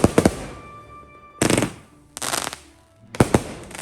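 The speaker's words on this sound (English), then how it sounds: "In England they celebrate like Bonfire Night, so it's like a night with fireworks." Bonfire Night fireworks in England bursting in rapid crackling volleys, three loud clusters of sharp pops separated by short quiet gaps.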